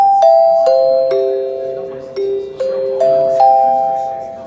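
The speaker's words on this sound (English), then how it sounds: "We're gonna capture the chimes and it's gonna be awesome." A sequence of clear, ringing chime tones, each struck note sustaining and overlapping the next, descending then rising in pitch, loud and close.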